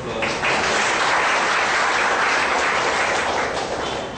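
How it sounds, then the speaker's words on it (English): An audience at an expert lecture on literary criticism in Porbandar claps steadily for about four seconds, a full, even round of applause that tapers slightly at the end. "Let's have a round of applause"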